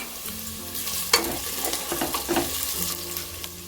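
Whole spices, cinnamon, cardamom, star anise, pepper and cloves, hitting hot oil with onion and green chillies for Maharashtrian Bhogichi bhaji, giving a steady close sizzle and frying hiss with a few sharper crackles and stirring scrapes.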